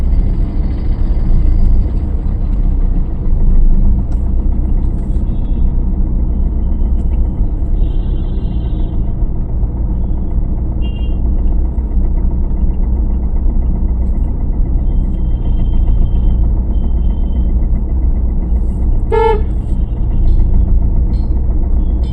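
Car in motion on a road during a driving lesson, a steady low engine rumble and road noise running throughout, with a brief higher-pitched tone near the end.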